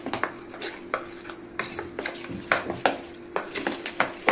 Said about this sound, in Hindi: इनो डाल के पहले इसको एकदम अच्छे से मिक्स कर लीजिए ताकि कहीं भी इनो का कोई दाना ना बचे.